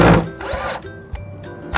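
A Buildskill 12V lithium-ion cordless drill drives a screw into thick plywood in short, loud whirring bursts separated by brief pauses.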